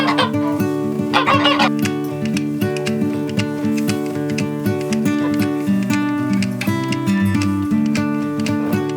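Geese on a homestead give loud, repeated honking calls close by, overlapping in a steady, busy chorus.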